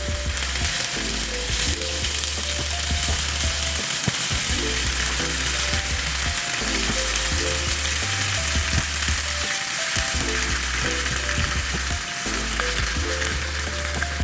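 Diced tofu (tokwa) pieces fry in a pan, giving a loud, continuous sizzle and crackle with dense popping textures and a steady low rumble underneath, never letting up.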